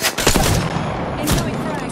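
Gunfire in the video game Apex Legends: loud bursts of close shots, a quick cluster at the start and another burst near the end, with a voice briefly speaking between them.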